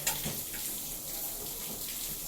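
An LG 6kg washing machine filling with water, a steady hissing rush of flowing water close by that stays even and continuous from start to end.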